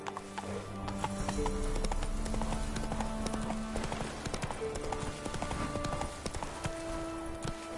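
Roach the horse galloping in The Witcher 3, with rapid rhythmic hoofbeats pounding close and loud throughout, set against a dense game background.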